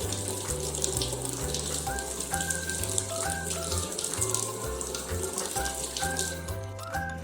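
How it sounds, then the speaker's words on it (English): Tap water runs into a sink as a vinegar-soaked egg is rinsed, a continuous splashing stream at moderate level with stepped background music playing over it and no speech. "Then gently catch the egg and give it a rinse so we can remove the eggshell easily."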